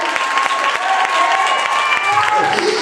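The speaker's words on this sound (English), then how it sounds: "I wish some believers would clap your hands." A church congregation clapping hands during a Sunday sermon, loud dense clapping with crowd voices and sustained organ or keyboard tones running underneath throughout.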